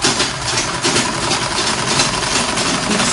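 Sewing machine motor stitching an Ankara fabric A-line skirt, a loud, steady whirring hum running without a break, close by and with no talking.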